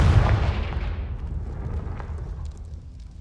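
A Confringo fire spell explodes in Hogwarts Legacy, a loud booming blast at the start whose rumble slowly fades over the following seconds, with no talk over it.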